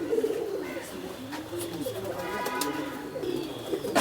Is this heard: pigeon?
yes